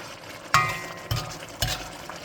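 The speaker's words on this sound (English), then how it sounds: "So we keep stirring this." Braised pork belly in dark soy sauce and caramelized rock sugar is stirred in a pan, three sharp spatula scrapes landing at an even pace over a low sizzle.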